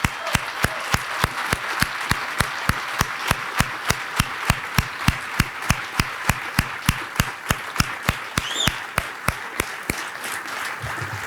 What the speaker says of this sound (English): give Marty Chernoff a round of applause